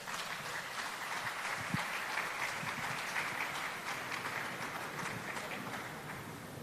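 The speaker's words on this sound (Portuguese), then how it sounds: "Uma salva de palmas para ele." An audience applauds continuously at a disability inclusion event in Brazil, a dense, even wash of clapping held at steady loudness throughout.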